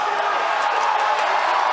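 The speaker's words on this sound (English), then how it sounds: "the fucking crowd is going insane" A large crowd roars and cheers at the SpaceX Falcon Heavy test flight launch, a loud continuous wash of voices with whoops, steady throughout and close by.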